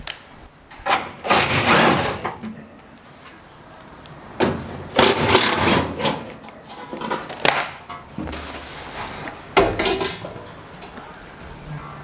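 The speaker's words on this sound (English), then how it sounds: "I can take it off and go grind those edges" An angle grinder works the edges of a car's rear valance in a garage, running in several loud bursts of a few seconds each with quieter gaps between them.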